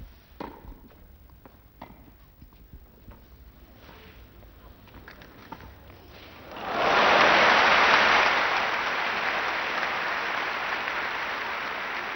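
Large crowd of about 12,000 at Roland Garros center court bursts into loud, sustained applause for Björn Borg during the 1974 French Open final against Manuel Orantes, following a few quiet seconds of scattered sounds.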